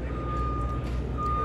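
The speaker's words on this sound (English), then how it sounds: "oh, the beeping stopped. Sorry about the beeping." A reversing vehicle beeps steadily in the background during the Creativation 2020 craft trade show, a persistent tone over a low, constant hum of crowd noise.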